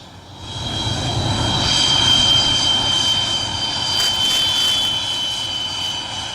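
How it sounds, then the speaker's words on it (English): MiG-21 jets roar past in a farewell decommissioning flypast alongside Jaguars, a loud sustained jet rumble with a high whine that swells and holds throughout, no talking. "The farewell ceremony featured a spectacular flypast by MiG-21s, Jaguars and the Surya Kiran aerobatic team"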